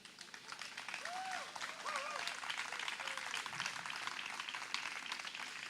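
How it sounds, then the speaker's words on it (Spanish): A church congregation applauds during a pastor's sermon, a sustained wash of clapping with a few cheers and shouts rising over it, fairly loud and continuous throughout. "Si va a aplaudir, póngale bueno, por favor."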